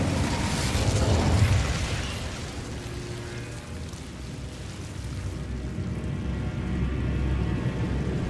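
Incendio fire spell cast in Hogwarts Legacy, a whooshing burst of flame that swells loudly at the start, then settles into a lower crackling rumble with a second rise near the end, no voices.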